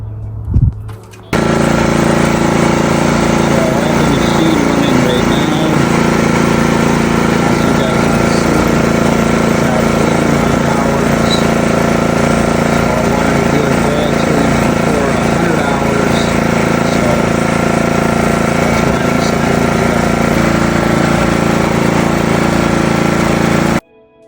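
An iPower 4300 inverter generator fires up after a short pause and runs steadily at a loud, constant drone with a buzzing mechanical tone, holding near and unbroken until it cuts off at the end.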